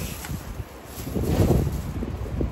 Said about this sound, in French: Il y a beaucoup de vent ce soir.